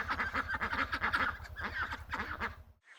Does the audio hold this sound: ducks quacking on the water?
yes